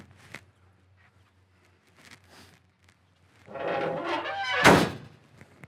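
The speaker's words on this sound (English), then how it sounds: "Trunk lid shuts and lines up great." The trunk lid of a 1973 Plymouth Satellite swings down with a brief rustle, then shuts with one solid, close thunk amid faint handling noises and no voices.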